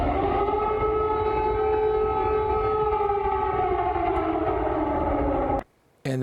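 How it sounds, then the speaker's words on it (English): Air raid sirens wail over Kyiv, Ukraine, a loud, steady, rising-and-falling civil defense tone with layered harmonics sustained for several seconds before cutting off abruptly near the end. "that is the sound of air raid sirens in Ukraine's capital"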